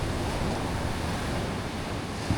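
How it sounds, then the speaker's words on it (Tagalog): Strong ocean surf roars continuously at high tide, heavy waves crashing close by on a beach with wind buffeting the microphone. "Lakas ng alon, guys."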